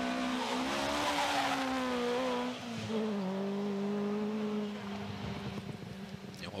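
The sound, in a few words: Peugeot 504 V6 rally car arriving on stage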